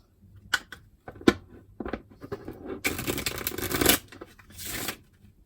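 Tarot deck being shuffled by hand at a reading, giving a series of brisk papery riffles and taps that build into a dense, close rustling burst, then a shorter flurry near the end, with no talking.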